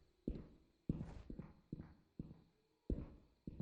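Footsteps in a tactical shooter video game, a series of six or seven sharp, hollow, evenly spaced impacts like hooves clip-clopping on a hard floor, fairly close and clear.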